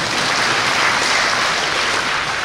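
A crowd at a Dhamma talk breaks into applause, a dense wash of many hands clapping at once, steady and fairly loud with no voices over it.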